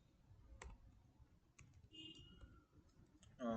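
Quick clicking keystrokes on a computer keyboard while code is entered, a scattered run of light taps at close range, with a brief voice near the end.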